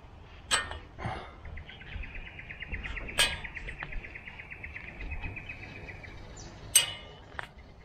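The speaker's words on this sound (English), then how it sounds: "You like the bird song tracks?" Birdsong sounds outdoors during work on a chainlink fence: a thin, high trill runs for a few seconds, along with scattered short chirps and a few sharp metallic clinks spread through the quiet, moderately distant scene.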